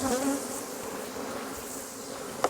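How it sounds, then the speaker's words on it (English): Angry honey bees swarming in the air during a honey harvest, a dense, continuous buzzing that stays close and fairly loud throughout, with no talking. "we got a lot of bees in the air that are mad"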